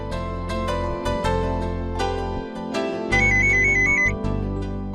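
A melodic phone ringtone plays steadily while a call is being placed, a repeating musical pattern with a brief higher beeping tone layered in near the end, heard alone without talk.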